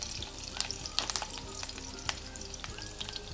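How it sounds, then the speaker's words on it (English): Chopped chilies and curry leaves fry in oil in a pan with a close, steady sizzle, broken by sharp spitting crackles. No one talks. "in which I am now going to add the chopped chilies."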